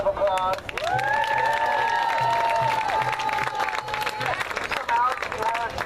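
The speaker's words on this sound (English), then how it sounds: "Give yourselves a round of applause." A crowd at an outdoor protest march in Dallas applauds and cheers loudly, with clapping and whoops blending into a continuous roar of noisy celebration.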